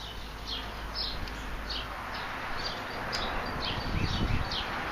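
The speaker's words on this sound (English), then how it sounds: "Those birds are loud. They won't shut up." Birds chirp repeatedly in short, high bursts at a moderate distance over a steady outdoor hiss, with no talking.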